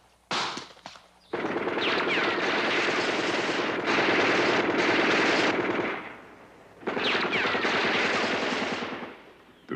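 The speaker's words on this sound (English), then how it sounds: "The Soviet AK-47 rifle, the standard weapon of the North Vietnamese soldier." Soviet AK-47 rifle firing long automatic bursts, loud and close, a rapid rattling stream broken by short pauses between volleys.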